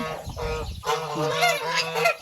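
Geese honking on a Thai farm where chickens and ducks are also kept, several loud nearby honks in quick succession with a brief gap, heard without talk.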